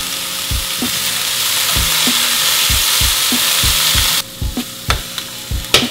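Zucchini and cilantro frying in a hot pan, a steady loud sizzle with repeated knocks of a utensil stirring against the pan; the sizzle drops away near the end, leaving only the scraping taps.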